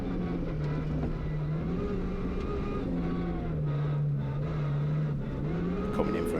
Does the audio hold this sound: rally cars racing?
yes